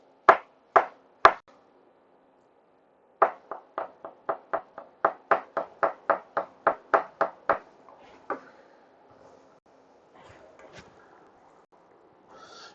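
A knife slicing food on a board for frying: three sharp cuts, a pause, then a quick run of about fourteen even, rhythmic chops close by, followed by scattered faint taps.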